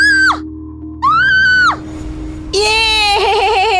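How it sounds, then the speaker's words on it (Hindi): A woman in a Hindi horror story screams loudly in fear, several piercing, high wailing cries separated by short gaps, the last one sustained and wavering, close and alone without talk. "आंचल जोर से चीख पड़ी।"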